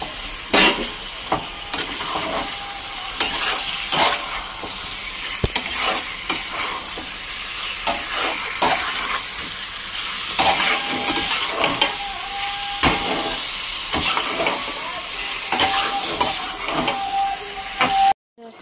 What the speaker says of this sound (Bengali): এরপর মাংসটাকে ঢেলে দেবো।